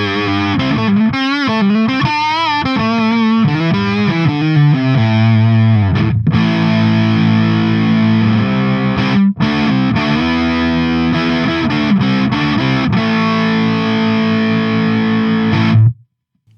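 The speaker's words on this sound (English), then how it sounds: "That's my attempt at tapping." Wolf WLP electric guitar tapped through heavy distortion, fast rippling note runs giving way to sustained chords and then an abrupt stop, loud and close with no voices.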